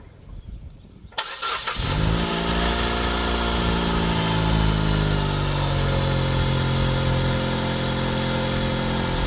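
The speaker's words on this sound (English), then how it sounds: "Let the car run a little on that new oil." A car engine cranks and starts after a quiet moment, then settles into a steady, close idle that hums on without any voices.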